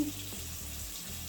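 Warm water runs from a tap onto a crumbly Pink Stuff cleaning paste, giving a steady, even hiss of flowing water throughout, close by and with no voices.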